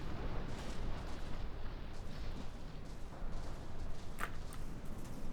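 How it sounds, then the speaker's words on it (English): Warships are heavily destroyed by gunfire in a video game, a dense continuous rumble of booming shots and explosions with sharper bursts cutting through, loud and sustained throughout. "both ships are being destroyed quite heavily right now"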